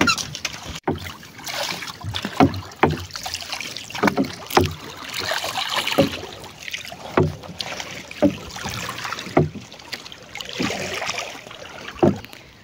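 Large boat heading out toward fishing nets moves across open water, with rhythmic splashing and sloshing strokes every second or so over steady wind noise, close and fairly loud.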